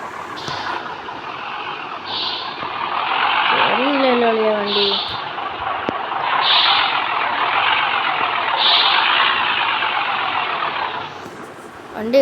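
Heavy goods truck loaded with hay laboring uphill in a truck-driving video game, its engine droning steadily with rising and falling strain over about twelve seconds, while someone talks over it throughout.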